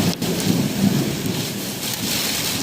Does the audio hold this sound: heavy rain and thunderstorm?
yes